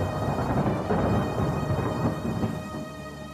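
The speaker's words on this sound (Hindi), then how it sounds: "अगले दिन बहुत जोरों की बारिश हो रही थी।" Heavy rain pours steadily in a dense, continuous hiss, with low thunder rumbling underneath throughout and no voices.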